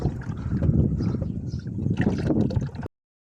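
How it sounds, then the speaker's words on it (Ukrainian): Motor oil glugs and trickles in a steady pour into a Renault Sandero Stepway engine for a few seconds, close up, with wind buffeting in the background, then cuts off. "Ми заливаємо масло."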